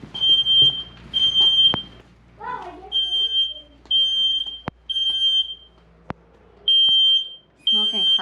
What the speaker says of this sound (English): we got a fire alarm going off.